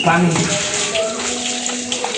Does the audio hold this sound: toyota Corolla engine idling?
no